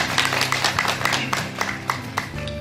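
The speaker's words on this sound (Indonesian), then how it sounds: "Tepuk tangan untuk masyarakat." An audience claps at a fertilizer outreach event for farmers in Martapura, East OKU, South Sumatra, in a brisk, scattered round of applause that runs steadily throughout.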